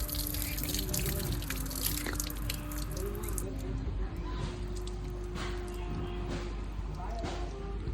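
Water trickles and drips steadily throughout at a temple in Kavandapadi, Erode, with a busy, echoing background and occasional voices nearby.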